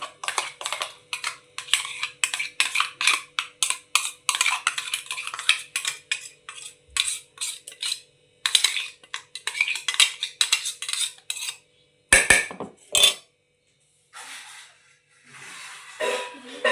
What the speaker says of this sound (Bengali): এই যে এবার আমি মশলাটা মাখিয়ে রাখবো।